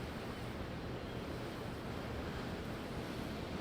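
Steady rushing ocean surf in Tales of Arise, a continuous windy wash of waves heard alone without any breaks.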